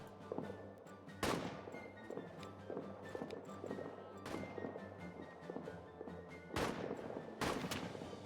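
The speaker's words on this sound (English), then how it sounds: "Heads down, artillery." Artillery fire in the trench-warfare video game All Quiet in the Trenches: heavy booming blasts, two big ones a few seconds apart, over a constant rumble of distant gunfire and battle noise.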